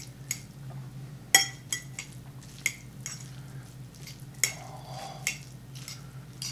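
Indomie noodles, rice, eggs and seasoning stirred together in a small bowl: repeated close scraping clinks of a utensil against the bowl, irregular strokes over a steady low hum.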